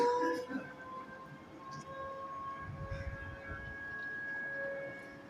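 A train passes in the distance on a winter day, seen from a five-storey rooftop, its steady horn-like tones and low rumble carrying faintly through the air with no talk over it.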